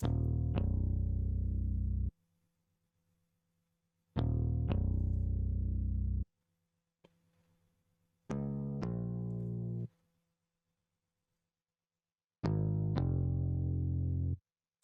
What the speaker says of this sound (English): After that I added the bass, and the pattern sounds like this.